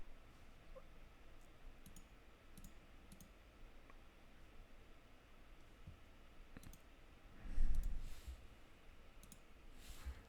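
A computer mouse gives sparse, faint clicks over a low steady room hum, with no talking.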